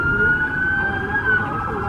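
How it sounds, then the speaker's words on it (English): A police siren wails with a steady rising and falling tone over a rumbling road and engine noise. "And here's sirens."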